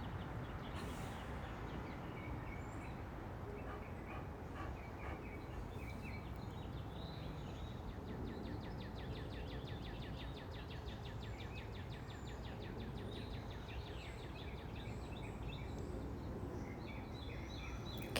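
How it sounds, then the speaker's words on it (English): Wild birds chirp and sing outdoors on a spring day in Georgia, faint scattered calls over a steady quiet background hiss. "Can you guys hear all the birds out today?"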